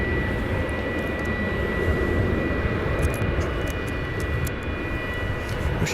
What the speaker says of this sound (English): It's American Airlines flight arriving from Salt Lake City, flight 1214, an Airbus A321.